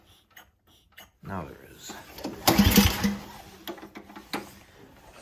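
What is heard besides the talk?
pull-starting snowblower with LCT engine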